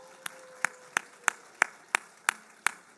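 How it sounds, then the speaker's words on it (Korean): A church congregation claps for the elementary-school children in a steady, evenly spaced rhythm of about eight sharp claps over a few seconds, fairly close and clear, with no talking over it. "초등부 있습니다. 박수로 격려하겠습니다."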